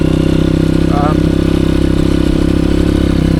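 A Honda CRF 230F dirt bike engine runs on a mountain trail in a loud, steady, close drone with a fast pulsing rhythm, while someone talks over it.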